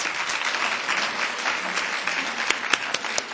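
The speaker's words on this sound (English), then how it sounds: "Let's give all of our winners another round of applause." Conference attendees at a women's leadership summit panel give the award winners a round of applause, a close, even wash of clapping with a few sharper claps toward the end.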